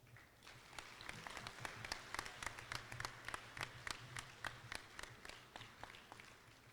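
A banquet audience at a college athletics awards ceremony applauds its award winners, dense clapping from a sizable crowd in an indoor hall, steady and moderately distant, with no talking over it.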